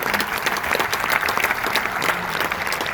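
Steady, dense applause from a crowd, many hands clapping continuously at an even loudness throughout.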